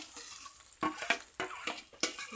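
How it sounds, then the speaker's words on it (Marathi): Fried spinach and gravy sautéing in oil in a pan for butter palak paneer, a soft sizzle broken by several quick stirring scrapes of a spoon against the pan, faint and close. "ग्रेव्ही अशी मस्त पाच पाच मिनटं याला छान तेलामध्ये परतून घ्यायची आहे"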